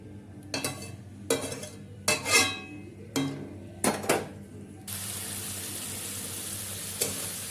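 Soyabean and potato masala sautéing in oil, with five or six sharp scrapes and knocks of a spatula against the pan over a low sizzle, then a steady broad hiss of frying, close and without talk.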